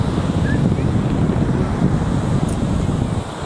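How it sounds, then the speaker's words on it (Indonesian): Strong wind buffets the microphone at a white-sand beach in Tuban, East Java, a steady broadband rumble with faint surf beneath, lasting the whole stretch without a break. "anginnya cukup kencang ya teman-teman"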